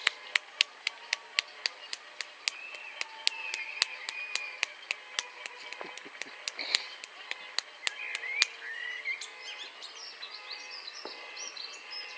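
Clapping for the NHS goes on over a Nottingham allotment, a regular string of crisp nearby hand claps with fainter neighbourhood banging of saucepans and birdsong behind, the claps stopping for the final few seconds.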